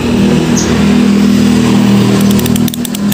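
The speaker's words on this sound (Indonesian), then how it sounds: "Ini motor ini mudah loh menyalanya, bukan motor yang mati total itu" A motorcycle engine, said to start easily, runs loudly at close range with a steady mid-pitched drone, then dips and picks up again near the end.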